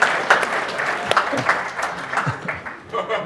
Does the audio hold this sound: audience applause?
yes